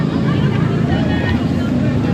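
Boat motor droning on a river at a dam, a steady low rumble mixed with wind noise and a busy crowd.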